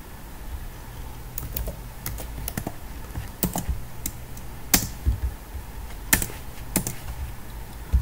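Python code is typed on a computer keyboard in quick bursts of close, crisp key clicks with brief pauses and a few heavier keystrokes.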